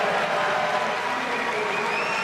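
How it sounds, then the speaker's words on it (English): A swimming crowd at the 2023 NCAA championships cheers Léon Marchand's 400-yard record, a loud, sustained roar of applause and shouting that fills the whole stretch without letup. "The crowd on their feet celebrating Léon Marchand."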